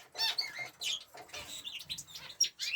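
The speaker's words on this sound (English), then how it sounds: "we've got a new canary here" A newly bought canary chirps in a cage among budgies and finches, with a busy run of bright, high tweets and trills close by, overlapping and fairly loud.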